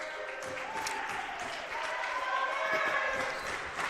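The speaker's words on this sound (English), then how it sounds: "Crowd getting into it early, stomping their feet." Home crowd at a women's college basketball game stomping their feet in the gym, a loose run of dull thumps and crowd noise beneath continuous commentator talk.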